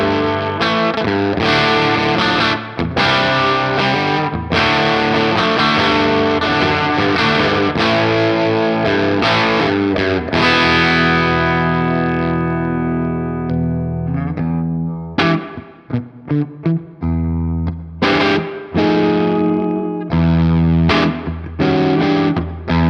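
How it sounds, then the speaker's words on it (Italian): Overdriven electric guitar through the bridge pickup of an ES-335-style semi-hollow, with a clone pedal in front adding a mid boost, playing loud, dynamic chord stabs and riffs that drop into choppy, gapped strums in the last few seconds. "È il ruggito del pick up al ponte."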